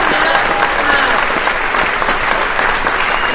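Audience at a showcase event gives a big round of applause, loud, even and unbroken throughout, with a crowd's many hands blending into a steady roar of clapping.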